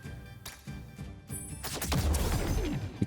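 Explosion attack in the video game Aethermancer: a rapid burst of crackling blasts and impacts that swells into a loud, rumbling boom with debris-like clatter, no talking.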